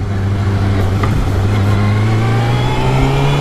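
A motorcycle engine revs loud and close for a small wheelie, its rising drone climbing steadily in pitch with no talk over it.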